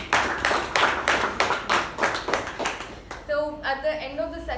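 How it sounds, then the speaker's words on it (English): Audience applause at a club meeting: several seconds of rhythmic, fairly close group clapping that thins out, giving way to a speaking voice at the end. "Please give him a huge round of applause."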